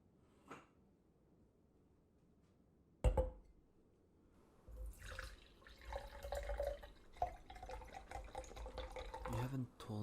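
Liquid is poured into a glass: a sharp clink, then a steady, bright pour with dripping and splashes running to the end, close and clear.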